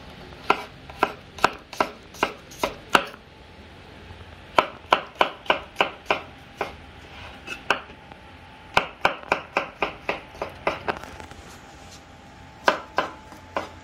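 Garlic being chopped with a knife on a board at an outdoor farm kitchen, a crisp close rhythm of rapid strike bursts separated by short pauses, clear with no talking.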